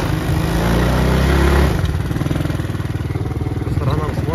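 A 125cc quad bike engine drones steadily while riding, loud and close, with a throaty pulsing rumble that surges briefly before settling into an even rhythmic putter, and a voice speaks over it.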